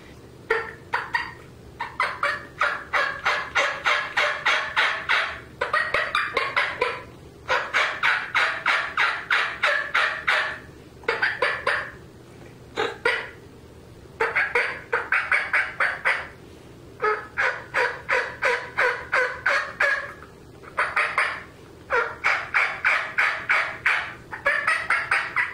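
A turkey mouth call imitates gobbling in rapid rattling bursts, repeated series of sharp warbling notes with brief pauses between, loud and close.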